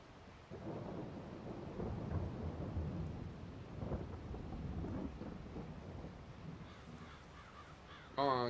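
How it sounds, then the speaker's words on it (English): Crows cawing in the farming video game Farming Simulator 22, heard as several harsh calls scattered over a steady rumbling, rain-like ambience that resembles a thunderstorm, with no talking. "Come on, get out of here, crows."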